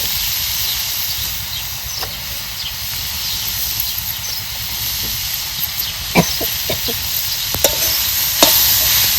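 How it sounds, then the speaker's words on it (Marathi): Lemon pickle with jaggery being stirred in a hot pan, a steady sizzle and hiss with scattered scraping clicks of the spoon, growing slightly louder toward the end, no talk. "परत एक वेळ चांगलं हलवून घ्यायचं."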